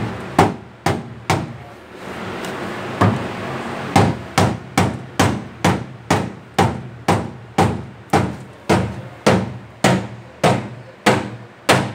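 Rubber mallet hammering a bearing off a dough mixer shaft: a long series of sharp, loud knocks at a steady, fairly quick rhythm, each with a short ringing decay, close by with no talking.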